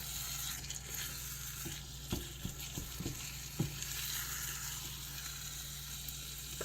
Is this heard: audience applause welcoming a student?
no